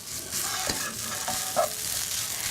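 Spices and salt are stirred in a sizzling pan, with a few scraping strokes of a utensil over a constant frying hiss. The sound is close and clear, with no voices.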